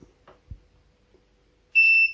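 Multimeter continuity beep across a fuse, a single sharp high-pitched tone lasting about half a second, preceded by faint clicks and handling taps in near silence.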